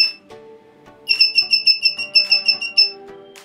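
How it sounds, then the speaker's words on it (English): A hobby 555 timer IC circuit in a blinking UFO kit beeps in a rapid series of about a dozen evenly spaced, high-pitched electronic tones, loud and close, after a short quieter tonal passage. "You will use a very popular IC called the 555 timer to make a blinking and beeping UFO"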